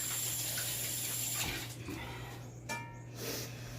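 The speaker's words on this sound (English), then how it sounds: "Let me just rinse my hands real quick." A kitchen water tap runs steadily as hands are rinsed partway through mixing ground meat for a pie, a continuous close rush of water over a low electrical hum, with no talking.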